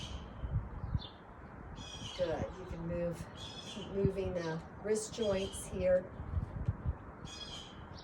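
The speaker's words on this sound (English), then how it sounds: "Hear some birds chirping, spring is coming." Birds chirp outdoors in spring, bright short calls scattered in bursts at a moderate distance beneath a calm voice guiding a yoga session.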